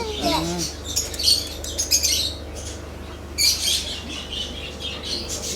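Pet-shop parrots squawk and chirp in sharp bursts, close and fairly loud, over a steady background hum, with some brief chatter mixed in.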